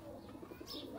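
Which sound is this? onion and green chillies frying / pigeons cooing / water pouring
pigeons cooing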